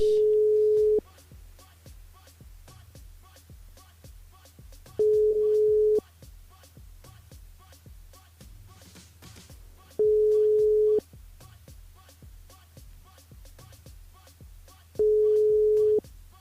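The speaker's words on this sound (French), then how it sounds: "malheureusement, Frédéric répond pas" Telephone ringing unanswered over live radio: four long electronic ring tones spaced about five seconds apart, steady and clear, with a ticking clock-like pulse and low background hum running underneath.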